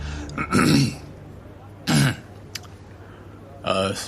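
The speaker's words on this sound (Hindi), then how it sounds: "सभी का ध्यान अपनी ओर आकर्षित करने के लिए जोर से खांसी की" Three sharp, throaty coughs burst out one after another, separated by pauses, close and fairly loud.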